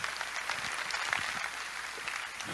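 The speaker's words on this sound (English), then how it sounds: "Please give yourselves a round of applause." A crowd at a live debate on Israel and Palestine gives itself a round of applause, a steady wash of clapping heard from some distance at low volume.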